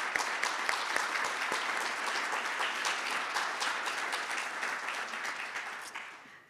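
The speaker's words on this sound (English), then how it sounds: "let's give them a round of applause for their hard work." A graduation audience applauds the graduating students, dense continuous clapping from a sizable crowd that holds steady and then fades at the end.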